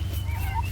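A farm chicken gives a short, soft clucking call over a constant low hum.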